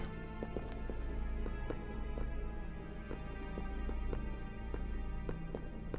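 Horse hooves in the video game Resident Evil Zero, a steady run of clopping hoof strikes over continuous game music and ambience.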